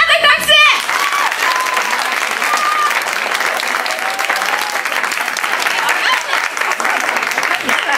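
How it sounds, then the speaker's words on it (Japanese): Loud, sustained audience applause at a graduation party battle contest in Japan, dense clapping filling the room after a brief burst at the start, continuing evenly to the end. "拍手大きめでお願いします。"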